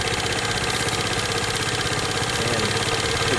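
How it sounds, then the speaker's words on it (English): A 2008 Vespa LX50 scooter's small engine idles steadily, a close, even mechanical putter with a slight rattle and no voices. "to start a scooter, you have a start button, press in the brake handle"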